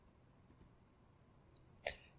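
A single crisp computer mouse click, made while opening a drop-down menu in a LibreOffice Save As dialog, lands near the end after a quiet stretch.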